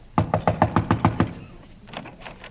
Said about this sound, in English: All right, knock on the door.